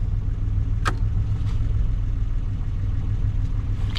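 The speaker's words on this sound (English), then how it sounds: "Let me shut off my headlights. See what it does to the idle." A Datsun 280Z with electronic fuel injection idles steadily after tuning, a low, even engine hum held close and constant, broken by a couple of faint clicks.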